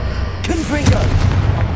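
A booming explosive blast from the Confringo spell in the video game Hogwarts Legacy, a short burst with a sharp crack and rumbling low tail, mixed with a shouted voice.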